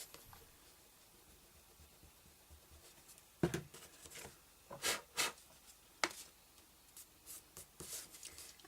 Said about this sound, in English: you can erase the pencil marks around the sentiment